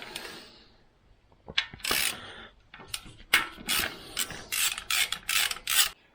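A ratchet undoes bolts on the aluminium cam cover of a Jaguar V12, sounding as several close bursts of rapid clicking separated by brief pauses.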